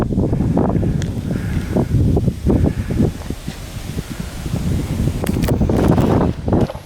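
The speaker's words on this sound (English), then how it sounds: "it's a little windy" Wind gusts across open rural farmland, rumbling steadily against the microphone with rustling surges that rise and fall throughout, loud and close.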